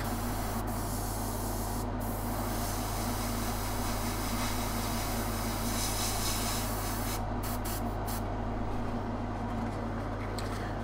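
An airbrush sprays turquoise paint onto tabletop scenery bulkheads masked off with card, a steady close hiss over a constant low compressor hum, with brief bursts near the start and end.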